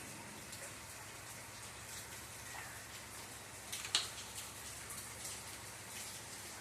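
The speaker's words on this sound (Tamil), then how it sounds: "மழையாக இருக்குது எல்லாம்." Rain falls steadily outdoors near a kitchen, a continuous hiss of drops with a few louder splashes standing out partway through, and no talking.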